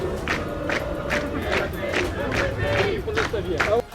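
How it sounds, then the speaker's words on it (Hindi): A large crowd of protesters fills the streets of Paris in a demonstration against the government, a dense roar of voices with rhythmic chanting or clapping bursts repeating about twice a second, loud and continuous throughout. "फ्रांस के अलग अलग शहरों में 1 लाख से ज्यादा लोगों की भीड़ सड़कों पर उतर आई और सरकार के खिलाफ हंगामा शुरू कर दिया"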